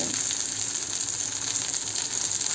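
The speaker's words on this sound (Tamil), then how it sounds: "நல்லா ஃப்ரை ஆகிற வரைக்கும் அதை நல்லா குக் பண்ணி எடுத்துக்கலாம்" Prawns frying in a pan for a spicy prawn 65 dish, a steady bright hiss and crackle of oil that runs continuously at close range.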